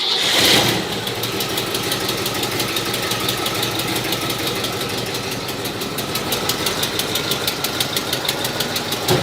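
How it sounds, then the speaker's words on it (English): A 1964 Chevrolet Impala with an alternator in place of its generator cranks briefly, then settles into a steady, close idle with a light knocking rhythm running through it. "Let's fire it up."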